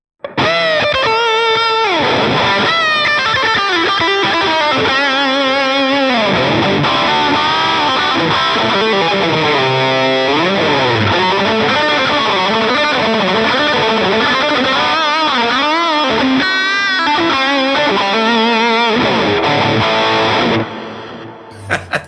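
A distorted lead electric guitar through a PRS Archon amp preset on a Line 6 POD GO plays continuous bends and fast runs, loud and up front, with a faint echo trailing the notes.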